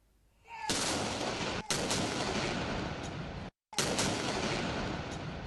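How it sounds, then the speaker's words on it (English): Ceremonial artillery gun salute at the federal capital, heard as two sharp booming blasts, each followed by a long rolling, crackling report that fills the air. A brief dropout cuts the sound before it resumes. "The day dawned with a 31-gun salute in the federal capital and a 21-gun salute in provincial capitals."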